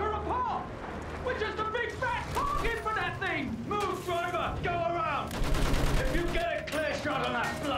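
Gunfire and artillery blasts in the World War I shooter Battlefield 1, rapid shots and bursts crackling close and loud throughout, with a person talking over the battle.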